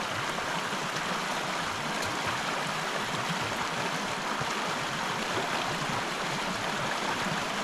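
Morrison Creek tumbles in cascade after cascade through winter forest in Allegheny National Forest, a steady, close rushing of water with an even, unbroken hiss and no voices.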